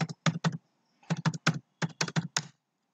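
Keystrokes on a computer keyboard entering a password, a close, clear clicking run in bursts of three or four quick taps separated by short pauses, with no voices.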